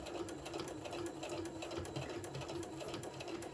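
A sewing machine stitches straight across a pencil case with elastic, a steady, even motor whir and needle clatter running continuously and close up, with no voices.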